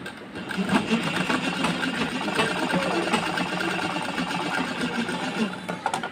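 A sewing machine stitching blouse fabric whirs steadily at close range, its fast needle chatter running without a break for the whole stretch.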